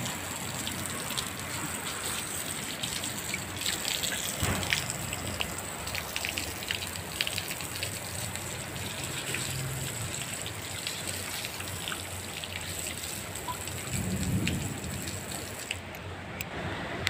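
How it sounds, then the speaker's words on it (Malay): Steady rain pours and patters on surfaces for a long stretch, with drips and trickling water. Any thunder is at most a faint low rumble beneath the downpour. "Hujan."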